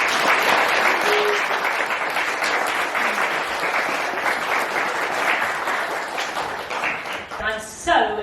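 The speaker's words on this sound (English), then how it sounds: "Let's give a big round of applause" A school assembly audience of primary pupils breaks into a long, loud, dense round of applause that fills the room and tails off near the end, with a brief voice emerging as it fades.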